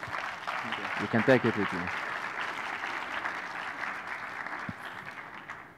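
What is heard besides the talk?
audience applause for Miguel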